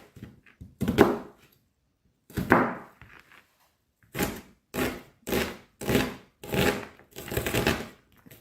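Knife chopping onion on a cutting board in a home kitchen: two separate cuts, then a steady run of six or seven firm, evenly spaced chops, close and fairly loud with no talk.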